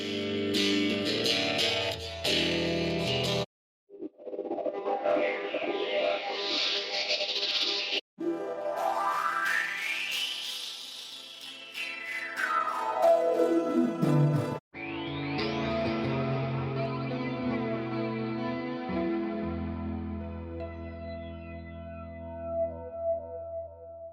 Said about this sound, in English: Here are some sound examples with LFOs.